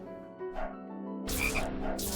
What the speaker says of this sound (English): What's with all the frogs?